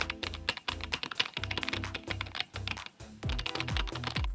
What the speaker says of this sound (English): I will start by typing the prompt.